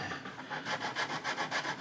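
A sanding stick rubs over the plastic hull of a 1/350 scale USS Missouri BB-63 model, giving a close, soft rasping in steady back-and-forth strokes, about eight passes in under two seconds, with no talking.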